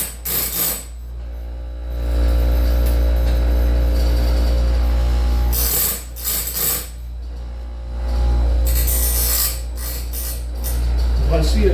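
A sharpener grinding the teeth of a sawmill band saw blade on a rainy day gives loud, close, repeated grinding and ratcheting passes. Bursts rise and fall in a steady cycle, with brief pauses between strokes.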